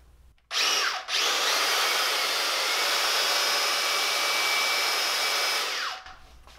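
A larger electric drill runs loud and continuous for over five seconds, stirring a full bucket of silicone for crawdad bait molds, with a brief dip in speed near the start before it winds down and stops.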